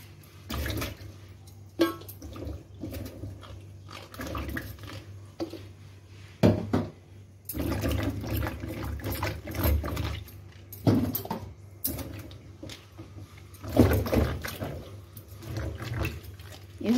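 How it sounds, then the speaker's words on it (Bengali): Okra pods washed by hand in a basin of water, with repeated splashing, sloshing and rubbing in irregular bursts, close by and moderately loud, no voices. "এভাবে করে আমি সব ভেন্ডিগুলো ধুয়ে নেব। একটা একটা করে এভাবে ধুয়ে ধুয়ে উঠিয়ে নিব।"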